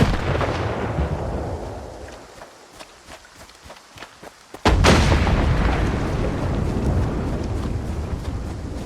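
Grenade blast in the STALKER 2: Heart of Chornobyl shooter, a sudden loud explosion bursting in after scattered gunfire and footsteps, then a long rumbling tail of debris and echo.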